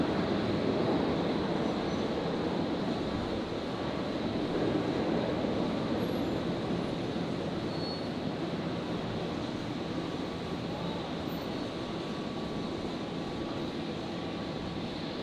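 A Virgin airliner taking off at Brisbane Airport, a loud, steady broadband jet roar that holds for the whole stretch with little change, with no talking over it.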